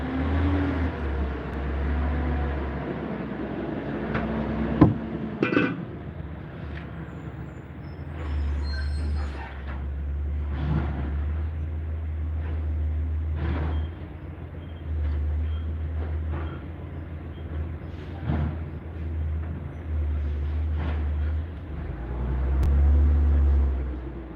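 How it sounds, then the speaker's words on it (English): A garbage truck rumbles close by for a long stretch, its engine droning low with hisses and clanks over the top, getting louder toward the end. "It's gonna get loud for a bit because the garbage truck is coming."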